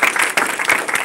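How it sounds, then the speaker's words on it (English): Brief burst of dense applause from a banquet crowd honoring award recipients, steady clapping filling the whole moment. "So a big round of applause for all of them."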